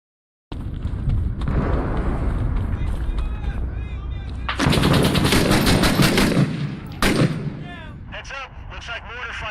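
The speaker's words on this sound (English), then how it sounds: "Looks like mortar fire coming from a rooftop somewhere near your position." Sustained gunfire and mortar fire in the video game Ghost Recon Breakpoint, a dense loud barrage of shots and booms that swells to a heavy burst midway, with radio-style voices talking over the battle.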